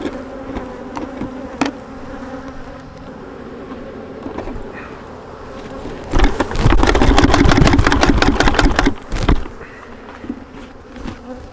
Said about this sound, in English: Quite a few bees in here still.